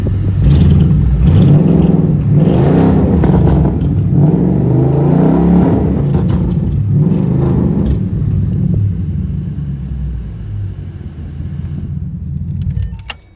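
A 2011 Ford Mustang engine idles loudly and steadily nearby, with a deep rumbling drone and occasional revs before it cuts off at the end.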